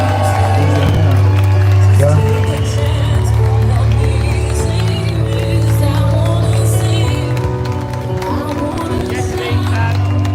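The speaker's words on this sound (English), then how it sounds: "Give her a round of applause, please." At a street rally against grooming gangs, a large crowd claps and cheers continuously at close range, a dense roar of applause and shouting voices that stays loud throughout with a low rumble underneath.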